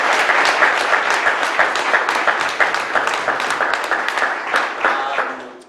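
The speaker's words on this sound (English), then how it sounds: "How about another round of applause for all of our pitchers?" Sustained audience applause at a tech startup pitch evening, dense and steady from many hands in a room, slowly thinning toward the end as a voice begins.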